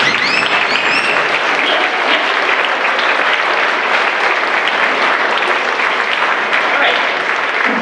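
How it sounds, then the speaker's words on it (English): Dense, sustained applause and cheering from a large crowd at a 2019 senior recognition ceremony for a graduating class, loud and continuous throughout with a few whistles rising above it. "help me a great round of applause for the class of"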